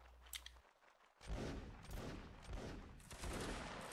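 Musket volleys crackle across a line battle video game, the broadband bursts loud and dense after a brief quiet gap, layered and continuous like massed fire from nearby ranks.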